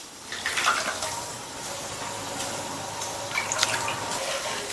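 Water poured from a cup onto jaggery in a bowl, a soft trickling splash with a few louder gurgles early on, fairly faint and close, no voices.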